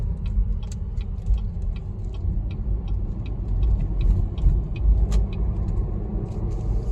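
A Chevrolet SS on the road gives a steady, close low engine rumble that swells slightly midway as it accelerates, with light ticking over the top and no talking.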